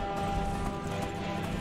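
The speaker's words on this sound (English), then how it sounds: "Horse hightails it out of town." Horse hooves in the video game Skyrim clop in a quick galloping rhythm, loud and close, over a short burst with no other sounds.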